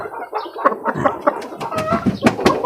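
A red-faced hen clucking among her following chicks, repeated close clucks mixed with thin chick peeps, lively and irregular, with no talk.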